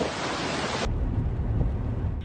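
Heavy rain and wind from Typhoon Emong lash La Union in a dense, loud, continuous roar. The sound shifts abruptly to a deeper rumbling gust that persists to the end.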